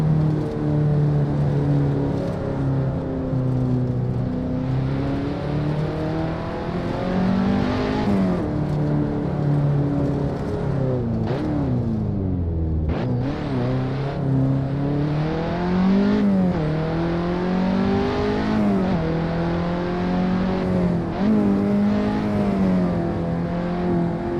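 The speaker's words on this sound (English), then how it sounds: "Car is really rattling and shaking." Race car driving over a cobbled section in Assetto Corsa, a loud, steady engine note climbing and falling through gear changes for the whole stretch, with a sharp dip and recovery midway.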